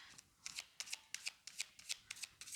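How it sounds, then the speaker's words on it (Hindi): Playing cards shuffled by hand, about a dozen crisp riffling bursts in a steady rhythm, close and fairly quiet with no talking. "2 शफल और करूँगी मैं"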